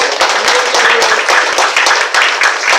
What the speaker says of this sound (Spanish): Aplaude que Cristo vive.